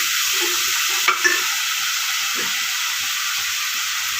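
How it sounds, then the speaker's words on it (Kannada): Coriander powder and chili powder roast in oil in a pan for moong dal rice, giving a steady close sizzle with a couple of brief stirring scrapes. "ಚೆನ್ನಾಗಿ ಎಣ್ಣೆಯಲ್ಲೇ ರೋಸ್ಟ್ ಮಾಡ್ಕೋಬೇಕು"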